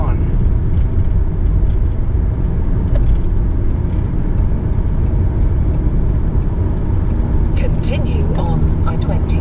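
Steady, loud car road noise from inside a vehicle merging onto Interstate 20 on a road trip from Alabama to Virginia, a continuous engine and tire rumble throughout with faint higher whooshes near the end.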